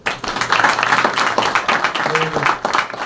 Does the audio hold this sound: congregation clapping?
yes